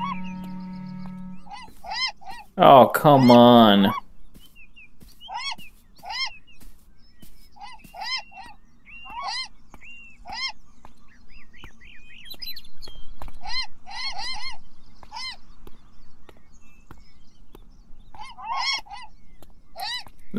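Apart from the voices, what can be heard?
birds squawking and honking in a video game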